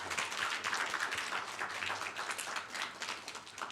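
A church congregation at a Sunday morning service claps for a visiting family, a fairly close, dense wash of many hands with slight swells over nearly four seconds.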